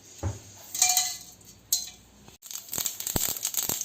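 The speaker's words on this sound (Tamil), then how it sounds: "ஒரு கடுகு நல்லா வெடிச்சிச்சு." Mustard seeds crackle and pop in hot oil in a pan, a few sharp scattered snaps and sizzling bursts close by, with quieter spattering between them and no voices.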